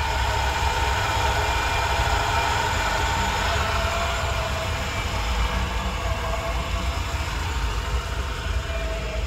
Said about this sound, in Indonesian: Mesin halus.